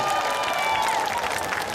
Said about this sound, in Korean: 나갈 때도 박수 한번 쳐주시는 거예요